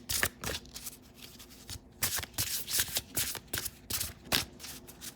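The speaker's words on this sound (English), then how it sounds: "let me shuffle" Tarot cards are shuffled by hand in a series of crisp riffles and slides, each burst a sharp papery flutter separated by short pauses, close and clear with no talking.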